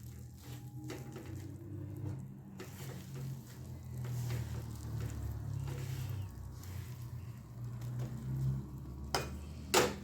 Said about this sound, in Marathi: एक दोन मिनटं आपण हे परतून घेतोय